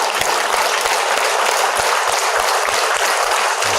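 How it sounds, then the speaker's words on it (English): A group claps their hands during an energy-healing exercise session, producing a dense, continuous patter of many claps with some sharper individual hits standing out, loud and close. "you can do some clapping to your hands."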